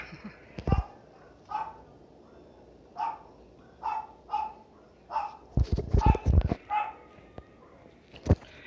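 A dog barks repeatedly at a steady pace, about ten sharp woofs at moderate distance, with a few louder close thumps and clatters near the end.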